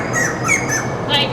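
Birds in a zoo aviary give several loud, harsh squawks in quick succession, close to the microphone, over a faint background murmur.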